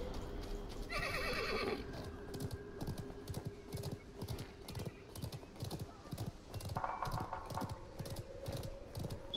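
Galloping hooves thud in a steady rhythm from a horse in the video game Realm Royale, with two loud neighs on top and keyboard clatter underneath.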